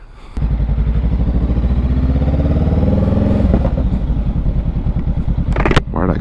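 A motorcycle engine drones loudly and close while riding, its pitch climbing steadily under load, then dropping sharply at a gear shift before ending in a rattling clatter.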